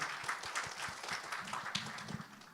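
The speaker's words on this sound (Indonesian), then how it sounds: "Kita tepuk tangan dulu yuk buat Tuhan kita yang baik." A church congregation claps their hands together at a fairly distant, subdued level, with individual claps audible in an uneven, continuous patter.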